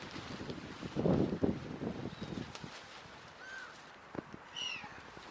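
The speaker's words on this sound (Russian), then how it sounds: "Ворона все-таки что-то там мякает." Outdoors by a pond in Kalininingrad where birds are being fed, a crow gives a few short nasal, mewing calls at moderate distance, mixed with wind noise and low rumble; other birds chatter faintly.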